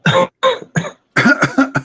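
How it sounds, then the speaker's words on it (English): Several loud, close coughs: three separate hacks, a short pause, then a quick burst of four more. "Yeah, cough."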